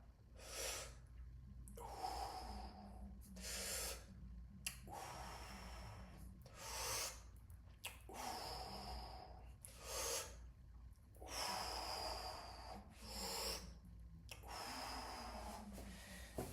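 During dumbbell hammer curls, heavy rhythmic breathing sounds close to the microphone, a steady run of forceful exhales and sharp inhales repeating every second or so for over fifteen seconds with no talk.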